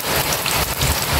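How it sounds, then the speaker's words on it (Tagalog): Heavy rain pours down hard in a dense, constant hiss with gusty wind, loud and close for about a second. "Ulan, malakas na po yung hangin at ulan."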